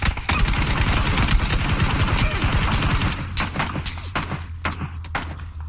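Rapid gunfire, a dense burst of shots, fills the first three seconds loudly, then gives way to scattered thumps and quieter bangs over a low steady hum.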